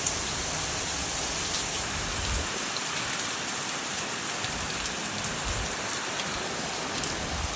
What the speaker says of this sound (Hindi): फिर एकदम से बहुत ज़्यादा बारिश आ गई